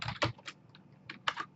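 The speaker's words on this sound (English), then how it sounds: "So I'm going to type email" Close, crisp typing on a computer keyboard while entering text into Google Sheets, with a handful of quick key taps arriving in two short clusters.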